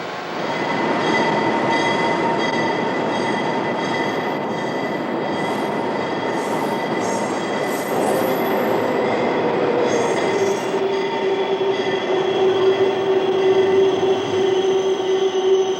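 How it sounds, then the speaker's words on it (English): An Amtrak Metroliner high-speed train rolls past steadily with a loud, continuous rumble of wheels on rails, a high squeal building toward the end, no voices. "America's fastest train, the Amtrak Metroliner"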